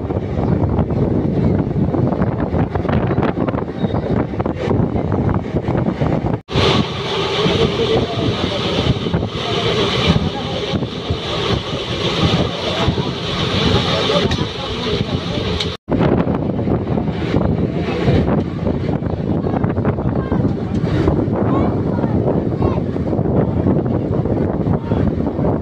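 Maa Tara Express 13187 rolls through Talit railway station without stopping, a steady loud rumble of the moving train with wind buffeting throughout, briefly cut twice, and speech heard over the noise.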